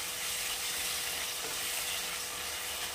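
Masala spices fry in hot oil for a Bengali jackfruit curry, giving a steady, loud, close sizzle with a dense hiss and no voices.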